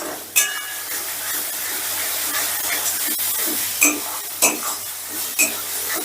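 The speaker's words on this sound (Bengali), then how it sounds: "9 থেকে 10 মিনিটের মতন কষে নেব, যাতে এর মধ্যে কোনো রকম কাঁচা গন্ধ না থাকে।" Masala for a pangas fish curry fries in a pan with a steady sizzle, broken by several louder scrapes and clacks of stirring, close and fairly loud.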